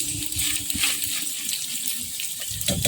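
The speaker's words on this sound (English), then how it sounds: "there's some water inside it, so it's okay to press it down to get it out" Water drains steadily out of food as it is pressed down in a kitchen, a continuous close splashing trickle with no one talking.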